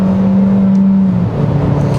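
A 2021 Kia Seltos 1.6 turbo gasoline 4WD in sport mode on a winding road, its engine holding high revs after an automatic downshift, a loud steady drone with a sustained tone heard from inside the cabin.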